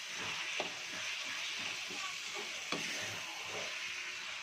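Steady sizzling hiss of chana dal and urad dal frying in a pan for chutney, with a couple of faint clinks from stirring.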